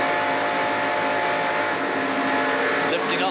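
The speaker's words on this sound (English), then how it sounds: "Martin's car, you can just hear him lifting a little bit." A 1991 NASCAR stock car at Daytona roars steadily at full race speed with a constant engine drone, easing slightly as the driver lifts off the throttle near the end.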